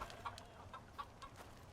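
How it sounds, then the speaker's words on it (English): Chickens clucking inside a coop in the survival game Icarus, a few short soft clucks spaced irregularly over a low ambient hum, fairly quiet and without speech. "Over here we have the chicken coop."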